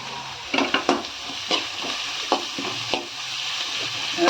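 Mixed vegetables with carrot sautéing in a pan, a steady sizzle broken by scraping stirs and spatula taps against the metal, close and moderately loud with no voices.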